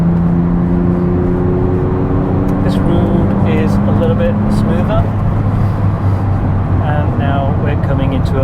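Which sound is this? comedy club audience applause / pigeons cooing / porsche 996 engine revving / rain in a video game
porsche 996 engine revving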